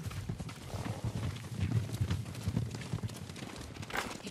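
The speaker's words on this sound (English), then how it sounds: "Horses, they're coming for us." Horses galloping in a video game, a dense rumble of overlapping hoofbeats that stays steady and moderately close throughout, mixed with ambient game noise.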